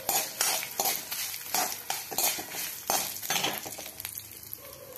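Dried red chillies frying in hot oil with a utensil stirring and scraping the pan, bursts of crackling sizzle and metallic clinks recurring through the stretch, close and moderately loud.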